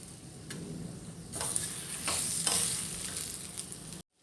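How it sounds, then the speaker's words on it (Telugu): Dried red chillies with coriander seeds crackle and sizzle in a hot pan, a steady close frying hiss punctuated by a few sharp stirring clicks before cutting off abruptly. "ఎండమిర్చి ఇవన్నీ కలుపుకొని ఫ్రై చేసుకోవాలి"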